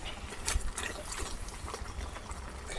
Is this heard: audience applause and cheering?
no